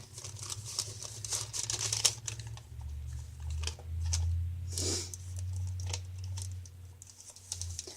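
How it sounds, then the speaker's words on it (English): A stitched parchment paper envelope, stamped and holding coffee-dyed writing paper, is handled up close in a quiet room, giving soft scattered crinkles and papery taps with a low background hum. "This is a parchment paper envelope that I made and very lightly stamped "Remember" on there."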